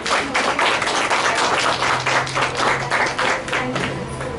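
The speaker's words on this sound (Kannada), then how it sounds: "ಚಪ್ಪಾಳೆ ಬರಲಿ." Sustained audience applause at a ceremony where names are called out, many hands clapping in a dense, steady roar that holds loud and close for several seconds before easing slightly.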